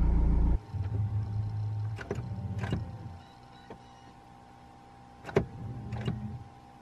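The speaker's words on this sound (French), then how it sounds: "Je le resserre. Frein de parking serré." A Renault Velsatis or Scenic electric parking brake engages with a short, loud motor whirr, then a low electrical hum with a few sharp clicks and clunks, close up and with no talking.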